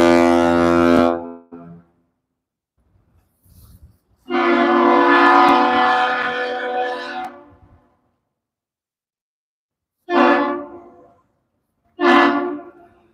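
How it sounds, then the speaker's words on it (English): A deep, loud ship horn sounds a salute from the laker Assiniboine at the Duluth lift bridge in several blasts: a long one, a longer sustained blast, then two shorter toots, with silence between them. "Got a salute between the bridge and the big ship."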